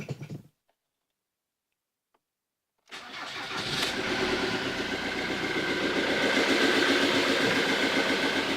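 A Ford Mondeo 2.0 TDCi diesel engine, fitted with a faulty valve, cranks and catches after a short silence, then settles into a steady, loud, close idle with a faint rhythmic rattle.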